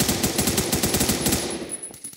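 Rapid automatic gunfire in the Roblox shooter Phantom Forces: a fast, even burst of about twenty close, punchy shots that slows and thins out near the end.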